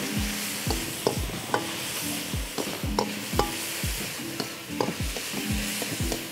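Stir-frying in a pan with soy sauce and fish sauce, a continuous close sizzle broken by rhythmic knocks and scrapes of a utensil tossing the food, about two per second, no speech.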